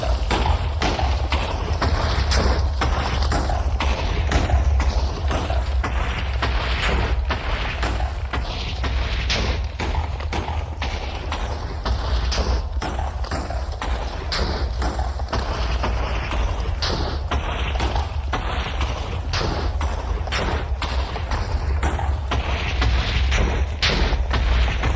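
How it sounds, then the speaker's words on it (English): Continuous dense barrage of Minecraft TNT blocks exploding one after another in rapid, uneven succession, a steady roar of booms with no pauses. "It should now start dropping TNT on everything below."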